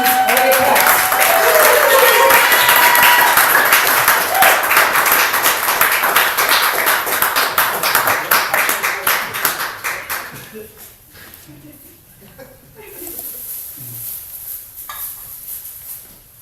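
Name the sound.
audience applause for poet Elliot Katz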